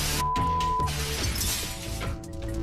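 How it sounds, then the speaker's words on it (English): Glass windows shattering under a meteorite's blast wave over towns in the Urals, a loud, dense crash of breaking glass that rings on with scattered tinkling debris throughout. "The blast wave smashed windows and destroyed roofs and walls of buildings."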